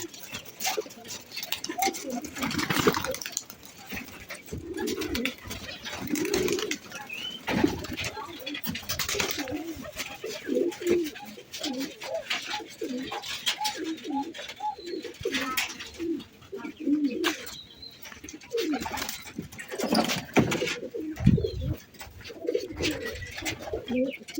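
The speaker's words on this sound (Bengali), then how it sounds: "দেখুন তো আমার এই নর কবুতরটি কি বলে" A male pigeon coos repeatedly nearby in soft, throaty, rolling phrases spaced through a quiet setting, with faint other bird sounds around it.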